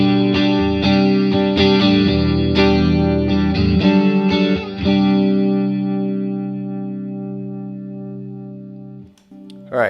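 Guitar chords played through a Swindler Effects The Gulf chorus/vibrato pedal ring out with a warbling, wobbling shimmer, several strums followed by a long sustained chord that slowly fades before another strum.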